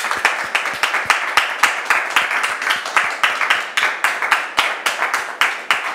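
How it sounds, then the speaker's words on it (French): Studio audience clapping in unison to welcome a guest onto a television talk-show set, a loud, close, rhythmic run of sharp synchronized claps at an even pace throughout. "Merci public de la recevoir avec vos applaudissements"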